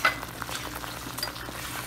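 Capers and olives go into a hot pan and sizzle, with a soft crackling fry and light stirring scrapes over a short stretch.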